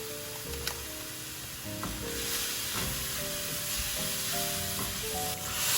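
Garlic, tomato paste and spices sizzle steadily in a pan with a constant frying hiss, broken by occasional stirring scrapes and faint tonal hums from the kitchen.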